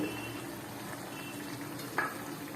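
Tomato puree going into a frying prawn and ridge gourd curry, a steady close sizzle with a brief clink of a utensil near the end.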